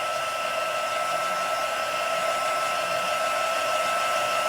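A hair dryer blows steadily to dry stamped ink on a card, giving an even, continuous whir that holds at the same level throughout, close by, with no speech.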